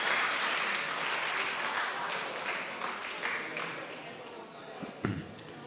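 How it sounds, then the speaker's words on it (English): Audience at a Stellenbosch charity wine auction breaks into applause after a winning bid, loud at first then thinning out over a few seconds, with a sharp thump near the end. "Give him a warm round of applause"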